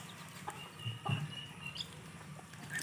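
Runner ducks give a few faint, short quacking calls close together over quiet outdoor background noise.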